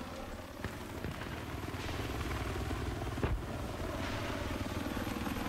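Helicopter in Battlefield 3 gameplay drones with a steady rotor and engine roar throughout, loud and close, with a brief thud or impact partway through and no speech.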